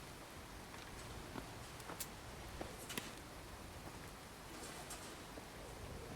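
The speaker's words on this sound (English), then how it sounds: "So the rain is really loud." Steady, loud rainfall in the video game Fallout 4, a continuous wash of falling water with a few faint scattered crackles and taps standing alone, no talking.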